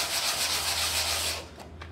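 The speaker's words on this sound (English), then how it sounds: "I'm using an 80 grit sandpaper" 80 grit sandpaper is rubbed by hand over a part from a Morris Models radial engine kit, a close, loud, steady rasping scrub that stops near the end, followed by a couple of faint scrapes.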